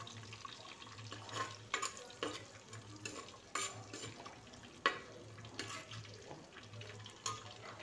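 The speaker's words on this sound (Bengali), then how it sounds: "আবার আরেকটু ভেজে নিই।" Fried rice is turned in a clay pot bought in Rajasthan, making faint, repeated scraping stirs in an irregular rhythm over a soft, low frying hiss, with no speech.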